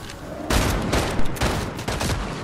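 Dense Fortnite gunfire keeps up a loud, steady barrage of shots, with sharper bursts standing out every half second or so.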